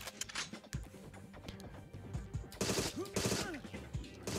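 Laser pistol shots ring out in a PC shooter game: a fast burst of sharp zapping blasts, closely spaced and fairly loud, mixed with other game effects.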